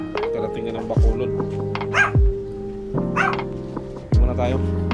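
A dog barks at a house still under construction, giving about four loud, evenly spaced barks close by over a steady engine drone.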